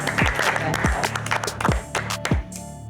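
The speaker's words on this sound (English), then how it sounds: "please give yourselves a big round of applause" Contestants at a baking competition get a round of applause, loud close clapping mixed with several deep thumps and a few voices.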